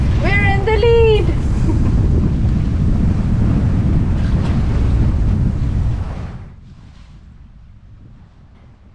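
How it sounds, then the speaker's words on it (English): Wind roaring across the microphone with wash of waves aboard a sailboat cruising in about 12 to 15 knots, loud and steady with a brief voice early, then dropping away abruptly to near quiet after six seconds. "The wind's nice at about 12 to 15 knots"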